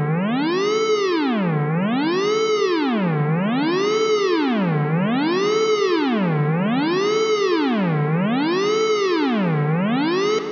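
Synthesized dub siren built in Ableton with delay and reverb, a loud continuous tone sweeping up and down in a smooth repeating wail about every second and a half, with echoing trails layered beneath, no voices.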